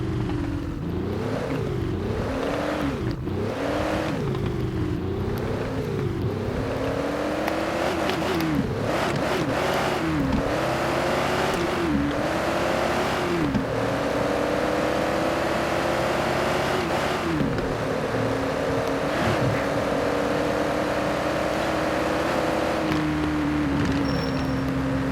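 A 1977 truck drives and accelerates, its engine revving up and down in repeated rising sweeps as gears shift, a loud continuous motor drone close by throughout.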